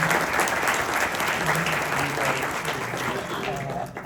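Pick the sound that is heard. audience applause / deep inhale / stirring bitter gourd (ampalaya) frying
audience applause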